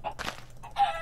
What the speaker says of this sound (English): Smash the chicken! Smash it!